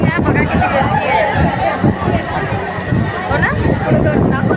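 Dense, loud crowd babble fills a temple dining hall as people wait in a food queue, many overlapping voices chattering continuously with no pauses.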